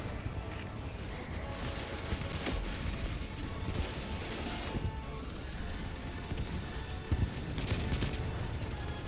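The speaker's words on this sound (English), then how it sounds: "I hope the turrets aren't shooting each other." Sentry turrets fire in Helldivers 2 as a dense, continuous barrage of rapid gunfire, loud and sustained throughout, with clanking mechanical noise mixed in.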